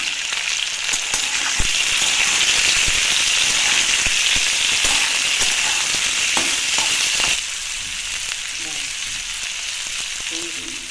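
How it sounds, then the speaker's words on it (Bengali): Potatoes and onions sizzle steadily in a hot pan for a spicy chicken keema masala, a dense continuous frying crackle with occasional louder pops and stirring clicks, easing slightly in the final few seconds. "আমার আলু পেঁয়াজটা একটু ভেজে নিয়েছি"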